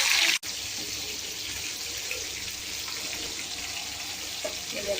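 Fish frying in hot oil in a pan makes a steady, close hiss of sizzling that carries through the whole stretch after one brief knock at the start, with no speech.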